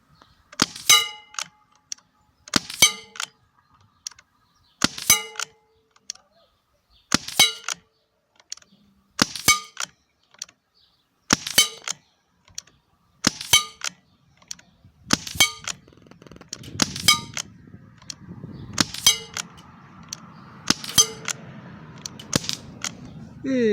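Pellets from a Crosman 1077 air rifle strike a metal target at 25 m, giving about a dozen sharp, ringing clangs at a steady interval of roughly two seconds, with faint background noise and murmuring in the later part.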